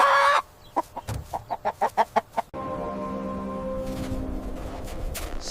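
A rooster gives a rapid run of about eight sharp clucks that build in loudness, then breaks into a long, strained crow that holds for several seconds, close and loud.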